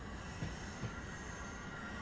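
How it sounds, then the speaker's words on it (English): A London Overground train passes in the Train Sim World 5 railway simulator: a steady, distant rumble of wheels on track with faint squeal, continuous and even throughout, no voices. "there goes their London Overground train now"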